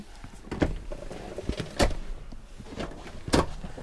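Electric seats in a Hymer B Class Masterline motorhome cab shift back, a few short motorized whirs and mechanical clunks spaced about a second apart, close and fairly quiet.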